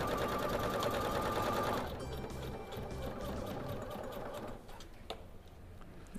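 A sewing machine fitted with a roller presser foot stitches in a fast, steady mechanical whir, loud and close, then eases to a lighter running hum with a few clicks near the end, no talk.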